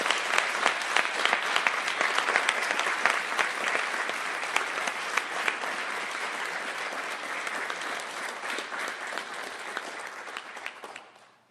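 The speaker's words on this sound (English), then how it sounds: "let's give him a round of applause" A large crowd applauds steadily and loudly for about eleven seconds, the clapping dense and sustained before fading out at the end.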